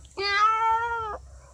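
A performer's voice mimics a crying cat with a single drawn-out, wailing meow that holds steady for about a second, loud and close, and then stops.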